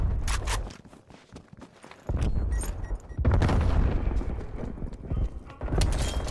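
Grenade blasts and gunfire in Black Ops Cold War, with heavy booming bursts and sharp cracks punctuating a dense, loud combat mix over several seconds.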